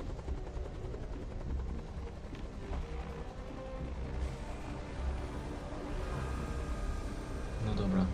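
Droning aircraft engine in the video game Godzilla: Strike Zone, a steady low rumble with rotor-like pulsing that holds throughout at moderate level, swelling slightly toward the end, with faint game effects mixed in.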